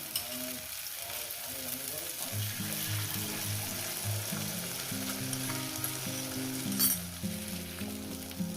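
Egg frying with ridge gourd in a pan, a continuous close sizzle with occasional stirring and faint clinks underneath a low musical background, no talk.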